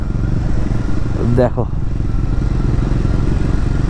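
A motorcycle on a group ride coasts down a long downhill jungle road in North Bengal, giving a steady, loud engine drone with wind rumble, and a voice briefly speaks over it.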